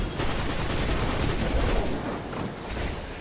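In a video game, a grenade and gunfire make a dense barrage of rapid shots and blasts, loud and continuous for about three seconds before easing slightly, with no talking.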